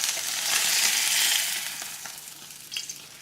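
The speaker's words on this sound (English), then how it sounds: "we're going to go ahead and get ready to remove our salmon here from the skillet." Salmon sizzling in a hot skillet, a loud dense hiss of frying that swells and then gradually eases, with a brief spatter near the end and no voices.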